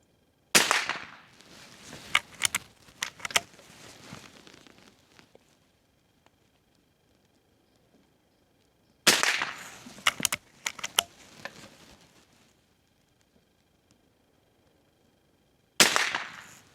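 Sharp shots from a Mossberg Palomino Model 400 .22 rimfire lever-action rifle, fired in quick strings, each crack followed by the clatter of the lever cycling, with a long quiet gap between groups and one final shot.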